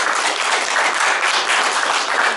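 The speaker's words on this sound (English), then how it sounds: "I paid that table to clap." Dense, steady applause from a gala audience at a library fundraiser, loud and continuous throughout with no voices on top.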